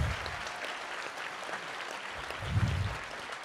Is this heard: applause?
yes